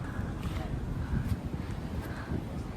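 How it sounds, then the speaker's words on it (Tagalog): Wind buffets the microphone in a steady rushing roar, with a voice faintly underneath. "Wow, ang hangin."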